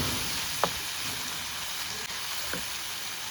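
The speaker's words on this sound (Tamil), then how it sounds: "இதுவும் நல்லா வதங்கட்டுக்கும்." Tomatoes sautéing in a pan for a soya meat curry, a steady soft sizzle with two brief utensil taps, fairly quiet and with no voices.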